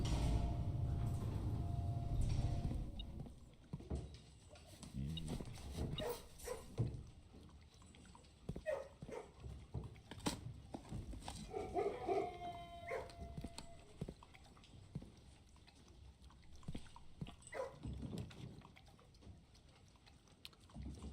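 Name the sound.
dogs barking in the kennel room, from video game Blue Prince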